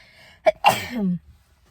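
A single close sneeze, a sharp intake and then a loud burst that trails off, in an otherwise quiet room.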